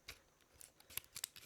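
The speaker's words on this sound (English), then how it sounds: "I suppose I'll cut along this edge" Anodized scissors snip through a plastic blister pack in a few quick, faint, crisp cuts, spaced irregularly and close by.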